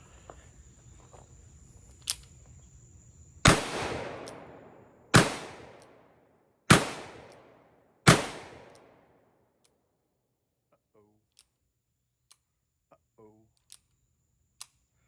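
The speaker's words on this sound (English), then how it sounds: "I have a Model 1860 Colt, not new, Army revolver." A Pietta reproduction of the Colt Model 1860 Army .44 caliber revolver fires four loud, sharp shots about a second and a half apart, each with a brief decaying echo, followed by quiet with a few faint clicks.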